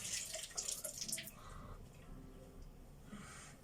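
Tap water runs briefly over beauty blender makeup sponges to wet them, with a short splashing burst at the start that fades into a quieter trickle, close and alone.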